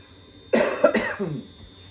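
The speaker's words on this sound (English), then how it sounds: "please excuse my cough" A single close, sharp cough followed by a shorter rough cough, heard alone in a quiet room.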